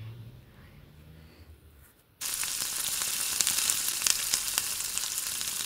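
Pointed gourd (potol) dropped into hot oil, with quiet handling first and then a sudden loud, continuous crackling sizzle that holds steady to the end.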